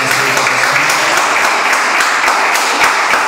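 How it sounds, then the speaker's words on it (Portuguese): A church congregation at an Assembleia de Israel service breaks into steady, dense applause, with many hands clapping together close by and loud, filling the whole moment without a break. "É uma salva de palmas para eles."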